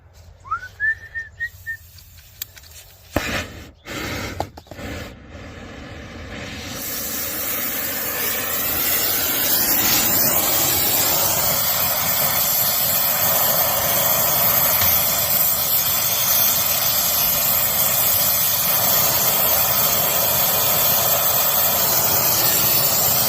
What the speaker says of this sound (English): Got our nitro hooked up. I'm going to put about 2 psi in there as we go. We'll get this brazed up.